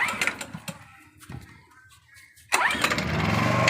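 A Honda EP1000 portable generator is pull-started with the choke set, sharp rope-pull rattles giving way at the end to the small engine catching and running loud and steady up close.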